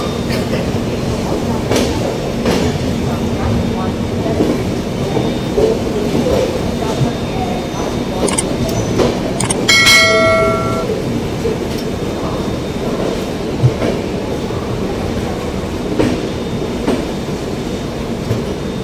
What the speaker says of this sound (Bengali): তো আমাদের ট্রেন এই জাস্ট খড়গপুরে ঢুকলো